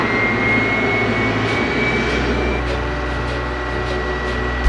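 A loud, steady jet engine roar with a rising whine from a Blue Impulse aircraft starting up with a ground power cart at Matsushima Air Base, continuous and close, filling the whole stretch without voices.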